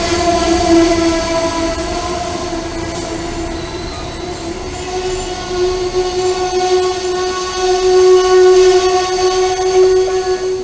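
A train passes through a railway station, loud and close, with sustained metallic wheel squeal ringing throughout and rumbling cars swelling toward the end.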